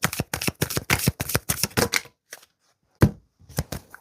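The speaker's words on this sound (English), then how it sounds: "I'm getting called to shuffle one more time and see if there's anything else I can add." A deck of tarot cards is shuffled by hand in quick, rhythmic riffling bursts that sound close and crisp. A short pause follows, then a few more flicks and snaps of the cards.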